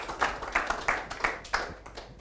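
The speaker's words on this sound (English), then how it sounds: "Give Emma a big round of applause" A small audience at a coaching session claps for a participant named Emma, a sparse, uneven handful of claps arriving in separate bursts rather than a continuous ovation.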